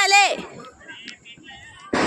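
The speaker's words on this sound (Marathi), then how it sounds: "काहींचे फोडून झालेत, काही प्रयत्नात आहेत फटाके फोडायचे" Diwali firecrackers burst in the rain outside a housing society; a voice opens, faint scattered pops follow, then a sharp loud burst lands at the end.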